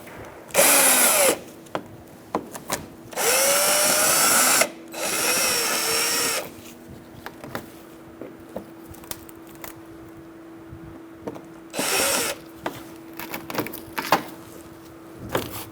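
A power driver with a Phillips bit backs screws out near the cooling fan and inner fender of a 2012-2017 Hyundai Accent, four loud whirring bursts of varying length separated by quieter gaps with light clicks.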